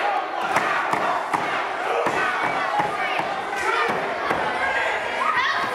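A wrestling crowd at an independent championship main event roars with overlapping shouts and heated arguing, a dense, loud, unbroken din punctuated by sharp individual yells.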